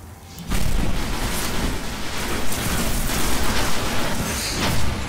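Rocket blasts in the shooter game Destiny: a sudden loud boom bursts in after a brief quiet lead-in, then a dense rumbling roar of repeated explosions rolls on close and heavy with no voices.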